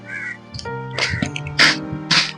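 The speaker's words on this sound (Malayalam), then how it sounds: "കാക്കശല്യം ഭയങ്കര കൂടുതലാ ഭയങ്കര കൂടുതലാണ് കാക്കശല്യം" Several harsh crow caws ring out in short bursts, fairly close, with brief gaps between calls.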